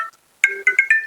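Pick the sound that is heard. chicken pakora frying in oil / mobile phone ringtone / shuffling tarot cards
mobile phone ringtone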